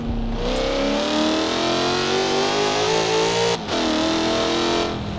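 A supercharged V8 car engine in Forza Horizon 4 holds a loud, smooth steady drone that climbs in pitch, with a brief dip near the end before it resumes.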